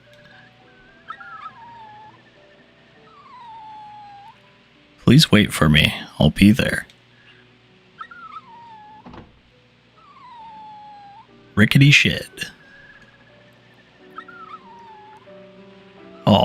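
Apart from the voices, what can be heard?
puppy Brown whimpering in the video game Rule of Rose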